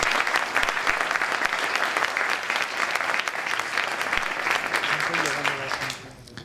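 An audience at a startup event's opening ceremony and pitch session in Strasbourg applauds loudly and steadily for several seconds before the clapping fades at the end.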